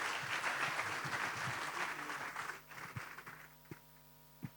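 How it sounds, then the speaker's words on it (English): Audience applause at a youth panel session of a general assembly, fairly loud clapping for about two and a half seconds that thins out into scattered claps over a background mains hum. "Again, a loud applause to all of them."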